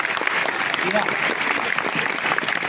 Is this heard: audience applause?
yes